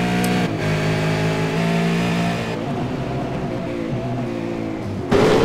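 V8 Supercars race cars on track in a race broadcast, steady loud engine drone with shifting pitch as cars brake and accelerate, ending in a sharper swell.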